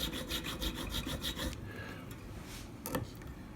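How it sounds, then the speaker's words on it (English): Fine files rasping nut slots in a bone guitar nut for a Les Paul, a run of quick, close back-and-forth strokes that then slows to a few lighter scrapes. "the files I'm using are a couple thou over each individual string"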